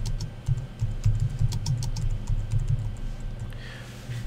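Keys on a computer keyboard tapped in a steady run of quick clicks for about three and a half seconds, close and clear, with no voices.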